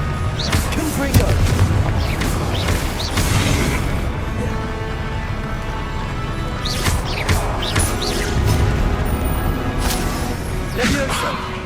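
Confringo fire spell blasting in the video game Hogwarts Legacy, heavy booming explosions over continuous loud combat noise, with a few louder bursts and a voice calling out among them.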